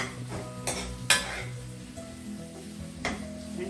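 Okra stir-fry stirred in a pan, soft sizzling under a few spatula scrapes and knocks, one sharper clatter near the middle, close and fairly quiet.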